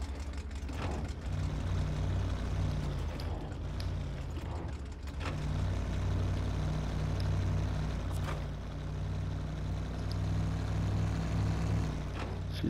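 A truck engine in the off-road driving game SnowRunner runs at a steady low rumble with a few mechanical clunks and surges as it revs, fairly quiet and continuous with no voices.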